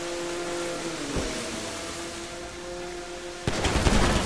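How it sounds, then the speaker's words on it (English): Rapid enemy gunfire in Grand Theft Auto 5 crackles over a steady engine drone from a car in the game, growing into a dense, louder burst of shots near the end. No voices are heard. "They're shooting at us!"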